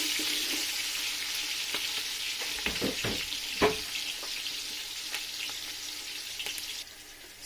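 Chopped onions fry in a pan for jollof rice sauce, a continuous bright sizzle with a cluster of spoon scrapes and knocks in the middle, easing slightly quieter toward the end.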